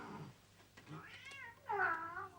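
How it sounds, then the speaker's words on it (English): A cat meowing indoors in a home kitchen scene, two or three drawn-out, rising and falling meows, the last one loudest, close by with faint voices around. "Denise, will you put the cat out, please, dear?"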